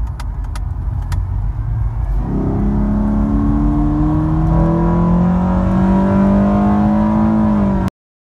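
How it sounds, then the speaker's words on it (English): Car fitted with a Takeda Stage 2 short ram intake pulls hard in second gear, its deep engine note climbing steadily in pitch for several seconds, loud and close, then cutting off abruptly. "Here's another pull from second gear."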